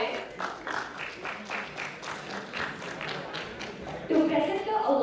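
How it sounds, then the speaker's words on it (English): An audience applauds the cybersecurity challenge winners at a tech event, steady clapping throughout with some voices mixed in, growing louder near the end. "Let's give them a big round of applause."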